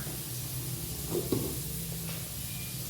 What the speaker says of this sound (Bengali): তেলের মধ্যে পটলটাকে ডুমো ডুমো করে কেটে ভাজছি